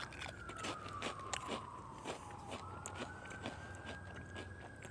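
Quiet, irregular crunches and chews of Lay's Italian Red Meat flavored potato chips, with a police siren wailing and sweeping steadily in the distance.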